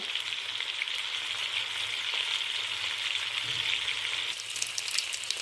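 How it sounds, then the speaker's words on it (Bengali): Oil spits and crackles in a hot kadai ahead of a fish curry masala, a continuous bright close sizzle that holds steady and lifts slightly near the end. "কড়াটা হয়ে গেছে গরম, এবার তেল দিয়ে নেব।"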